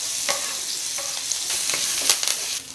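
Green chilies, garlic and curry leaves fry in hot oil with a steady bright sizzle, broken by several short bursts of crackle and spatter as a spoon stirs the pan; no voices.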